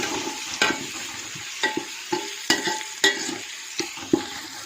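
Chopped green chillies and tomatoes frying in hot oil for a chana pulao, with a loud sizzle broken by repeated spatula scrapes and stirring knocks against the pan, no talk.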